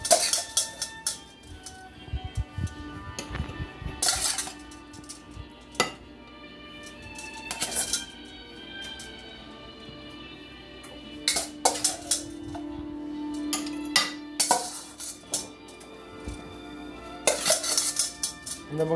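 Broccoli and carrots are spooned onto a plate beside haddock in a kitchen, with scattered clinks and scrapes of metal utensils against dishes in irregular bursts, close and moderately loud, no talking.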